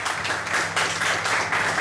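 A concert audience applauds a band who have come straight off the stage in Niš. The clapping is dense, even and moderately distant, and it continues without a break, with no talking over it.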